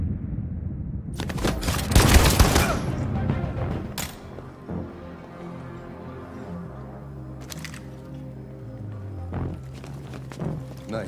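Gunfire in the video game Detroit: Become Human, a loud burst of rapid shots near the start followed by a few isolated sharp cracks amid quieter game ambience and music.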